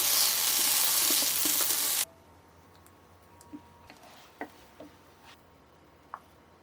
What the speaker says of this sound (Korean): 불향만 살짝 나게 구워줄 거예요.